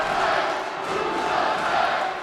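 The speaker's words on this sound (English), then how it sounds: "And you can hear the crowd cheering." A crowd at a professional axe throwing championship cheers and shouts in a sustained, moderately distant roar that holds for a couple of seconds.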